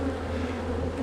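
Honeybees crowd a hive during a summer inspection, their dense, steady buzz droning close and unbroken, with no voices over it.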